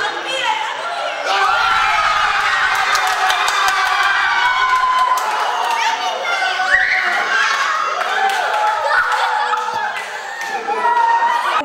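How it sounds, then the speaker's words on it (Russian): Russian football fans roar and cheer in a dense, loud crowd after their team's victory over Spain, with shouts and whistles rising above a continuous wall of celebration. "Восторгу наших болельщиков просто не было предела"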